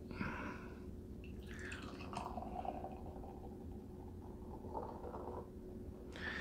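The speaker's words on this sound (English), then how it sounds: "So it's definitely pouring like either American Pale Ale or West Coast IPA, no doubt." IPA, a West Coast or American pale ale style from Fermentation Project in Bend, Oregon, is poured into an oversized tulip snifter glass, giving a soft, steady liquid trickle and fizz that carries on alone at moderate level.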